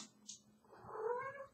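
Domestic cat giving a drawn-out meow, faint and close in a quiet room, rising and fading once with no talk.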